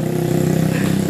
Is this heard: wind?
no